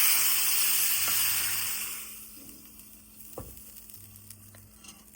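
Seasoning tempered in a hot pan bursts into a loud hiss at the start, then dies down to a quiet sizzle with a few scattered pops and clicks.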